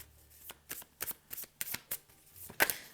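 Playing cards are shuffled and handled during a card reading, giving a quick series of sharp, crisp flicks and snaps close up, ending in a louder riffle, with no talking.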